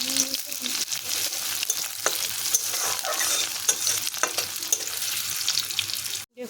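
Chopped ingredients fry and are stirred in a pan, a steady close sizzle with repeated scraping strokes of the spoon, alone and fairly loud until an abrupt stop.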